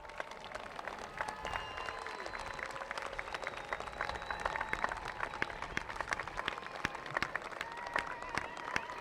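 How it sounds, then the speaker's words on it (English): Audience at a Whittier commencement ceremony applauds graduates' families and friends, a dense, steady wash of clapping with sharp individual claps and crowd noise throughout, lasting the whole stretch. "give your family, friends who are here to support you a big round of applause"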